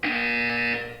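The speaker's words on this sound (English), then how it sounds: "When you hear the buzzer, look up at the ceiling." A loud electronic buzzer in the video game Portal 2 sounds once, a steady harsh tone lasting about a second, close and alone with no talk.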